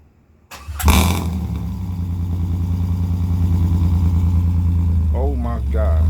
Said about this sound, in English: ZZP Shorty muffler / resonator. This shit is loud, man. It's so loud.